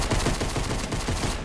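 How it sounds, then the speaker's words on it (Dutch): Rapid gunfire from the Fortnite video game rattles off as a dense burst of repeated shots, loud and continuous over a brief moment with no talk. "Ik hoor allemaal schoten"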